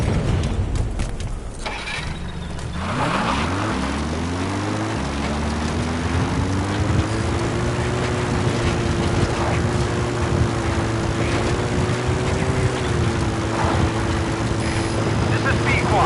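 A support helicopter in a video game arrives at a landing zone, its engine drone rising steadily in pitch and then holding a sustained rotor hum, with brief radio-style voices near the start.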